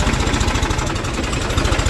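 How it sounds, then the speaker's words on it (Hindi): A Massey tractor engine runs close and loud on a farm, its steady rapid low chugging pulse continuing without a break and with no voices. "ले भाई मेसी ट्रैक्टर लेकर चल पड़े"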